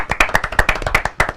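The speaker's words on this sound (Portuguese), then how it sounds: "Palmas pro Ronaldo." An audience claps for Ronaldo, a short burst of roughly a dozen sharp, close handclaps in an uneven rhythm, with no talk over it.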